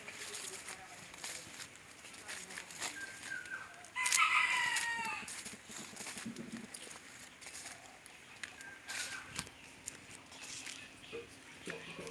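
A single rooster crows once, clear and fairly close, over steady outdoor background noise.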